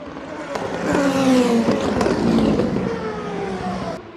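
Race cars enter the chicane fast at the 24 Hours of Le Mans, loud engine roar with falling pitch sweeps as they brake and downshift, plus sharp scraping clicks, swelling and easing over a few seconds.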